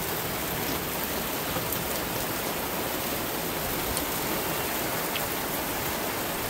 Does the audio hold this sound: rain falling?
yes